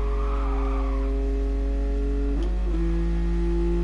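Car engine from Gran Turismo Sport, an older car driven in the game, holding a steady tone that dips and shifts briefly mid-clip before settling again, loud and alone with no talk.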